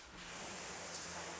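Water sprayed onto a car hood during a wash makes a brief, steady hiss that starts abruptly and holds evenly, faint and close, with no talking.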